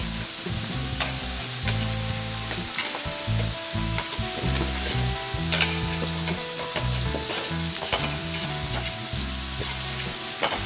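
Chicken souvlaki sizzling hard in a hot pan of reduced sauce, a dense, continuous crackle and spit close up with low bubbling underneath, steady throughout and with no talking.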